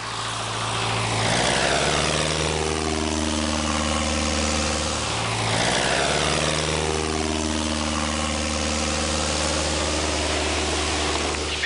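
Small propeller airplane flying low while towing an advertising banner, its engine droning loud and steady with a slow rise and fall in pitch as it passes close by, no talking.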